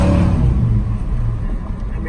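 A 1985 Chevrolet C10 short-wheelbase pickup, dropped, idles with a steady low rumble close by, and someone talks over the engine throughout.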